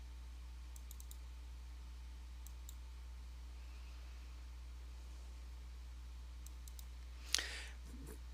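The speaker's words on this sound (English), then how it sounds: "we're going to right click on it and choose to run as administrator" A computer mouse clicks a few times, faint and close over a steady background hum while the OspreyHost web client is launched, followed by one louder click and a soft rustle.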